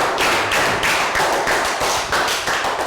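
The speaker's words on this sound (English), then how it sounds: "And give yourselves all another round of applause" Students in a Year 3 classroom clap together after a maths lesson, a steady dense patter of hand claps close by, lasting the whole moment with no talk.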